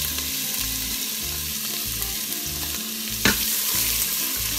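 Chopped onion sizzling in olive oil inside an Instant Pot on sauté, a steady close crackle broken by a brief scrape of stirring near the end, with no voices.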